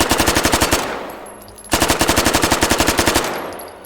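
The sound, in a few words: automatic gunfire in video game H3VR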